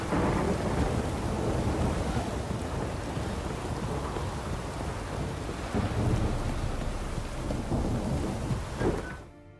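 Heavy rain pours steadily with rumbling thunder in The Witcher 3 video game, a dense, loud storm that continues throughout before cutting off abruptly at the end.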